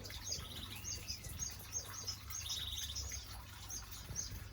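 Canaries and other birds in an outdoor aviary chirp in quick, high, repeated bursts over a low background rumble, faint and continuous without talk.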